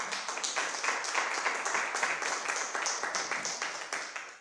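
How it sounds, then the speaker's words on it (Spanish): A church congregation claps together during a Spanish-language sermon, giving dense, lively applause with quick overlapping claps at a steady level throughout. "Den un aplauso al Señor"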